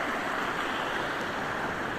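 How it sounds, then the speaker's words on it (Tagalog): Strong ocean waves roll and wash without a break, a dense, loud surf roar heard alone during traditional net fishing in the Philippines. "Ang lakas kasi ng alon."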